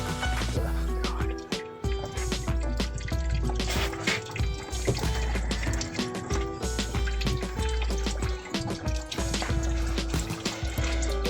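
Slimy antifreeze drains out of the radiator of a Land Rover LR3 under repair, a continuous trickling and dribbling of liquid heard close up inside a noisy workspace with clattering.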